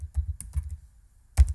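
Typing on a computer keyboard, a handful of soft close keystrokes in two short bursts with a pause between, no talk.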